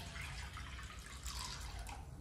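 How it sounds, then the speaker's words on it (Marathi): Water poured from a small metal pot into a kadhai on a gas stove, a steady broad splashing pour at moderate level running the whole time, with no talking. "त्याच्यावरती कढई ठेवूया आणि त्याच्यामध्ये 1 तांब्या पाणी टाकू"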